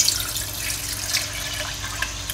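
Water for an egg biryani pours from a measuring cup into the pot, a steady close splashing stream lasting a couple of seconds.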